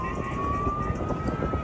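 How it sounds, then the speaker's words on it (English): A wailing ambulance siren from recorded footage holds a steady, loud tone with traffic rumble beneath, continuous and fairly close throughout. "So now that's an amazing siren he caught right there."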